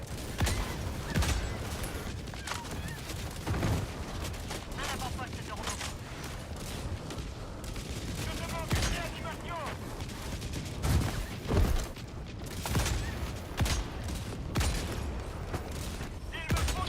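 Video game gunfire rattles in irregular bursts of shots over a busy, noisy battle backdrop, moderately loud and continuous, with occasional talk mixed in.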